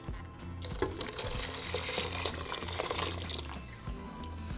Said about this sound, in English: so to my pot, I'm just going to add my salsa. along with the consomé.